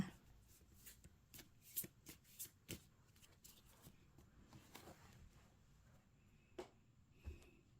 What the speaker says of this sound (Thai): ขอเป็นตัวแทนจับไพ่ตัดไพ่ให้คนเกิดวันอังคารค่ะ